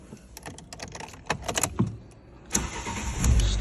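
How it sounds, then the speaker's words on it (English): A Fiat 500's engine cranks and catches after a few quiet cabin clicks, settling into a steady idle that swells near the end, close and moderately loud, with no talking. "Start the engine."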